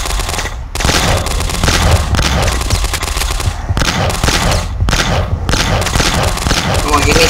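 An Uzi fires in the video game Box Head as loud, nearly continuous rapid fire with dense booms. Bursts run almost nonstop, with only a few short breaks.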